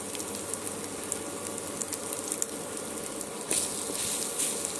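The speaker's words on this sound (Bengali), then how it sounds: "মশলাটা একটু ভেজে নেব" Ground turmeric and coriander sizzling gently in a pan for a taro-leaf curry, a soft continuous crackle with a brief louder burst near the end and no voices.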